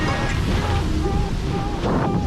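Strong wind buffets the microphone aboard a sailboat at sea off Cap Sicié under grey skies, with surging water and rushing gusts filling the short span close and loud.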